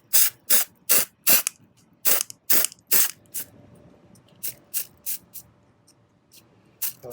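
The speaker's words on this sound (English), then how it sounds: "And you just spray away." Short bursts of fabric spray paint hiss from an Instashot sprayer onto a face mask outdoors, about a dozen quick puffs in uneven rhythm, the first ones longer and closer together, with faint background noise between them.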